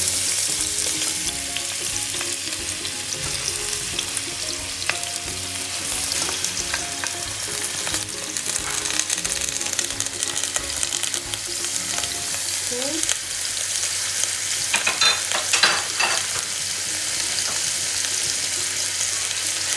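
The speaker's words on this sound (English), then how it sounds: "Next I have to add onion, only onion." Onion fries in olive oil in a pot, producing a steady, close sizzle that holds for the whole stretch, with a few faint stirring clinks and no speech.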